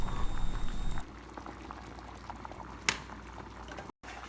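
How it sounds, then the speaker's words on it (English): Pasta boils hard in a pot of water, a dense bubbling roar that drops to a softer, steady simmer after the first second, with small pops and a sharp clink partway through, no talking. "Once you got a nice steady boil, dump in your pasta, give it a quick stir."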